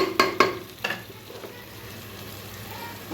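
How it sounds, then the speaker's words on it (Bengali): Chicken meat for khichuri, seasoned with black and white pepper, cloves, cardamom and cinnamon, sizzles in a pot, with a couple of sharp scrapes of a spoon at the start and then a steady frying hiss. "তো মাংসটা কষা পর্যন্ত ওয়েট করবো আমি।"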